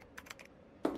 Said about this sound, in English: I heard typing.